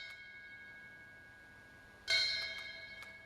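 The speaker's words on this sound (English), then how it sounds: "the ceremony included a flag retreat and the ringing of the bell" A single bell strikes once and rings on, fading, at a memorial ceremony for 9/11 held at Fairchild Air Force Base alongside a flag retreat, following a stretch of quiet background hum.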